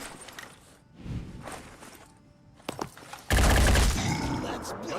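Heavy cannon fire in a Terror from the Void mod of a turn-based tactics game on eldritch difficulty: scattered shots and thuds build to a loud, sustained burst of blasts and gunfire, with some talk underneath.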